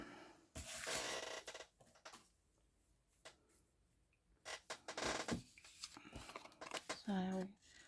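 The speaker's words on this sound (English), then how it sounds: "just keep your scissors straight and wiggle around the paper." Scissors snip around a stamped paper image in short, close crisp cuts with pauses between them, as a person fussy-cuts the shape; a voice speaks briefly near the end.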